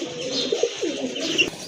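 A pair of pigeons kept for sale coos close by, a few short throaty rolling calls in quick succession.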